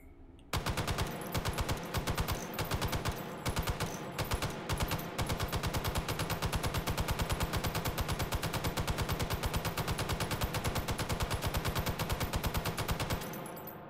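Sustained automatic fire from an M60 machine gun shot from the hip in the VR game Hot Dogs, Horseshoes & Hand Grenades: a loud, close, rapid steady rhythm of rounds running almost unbroken for over twelve seconds, alone without talk.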